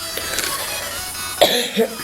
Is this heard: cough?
yes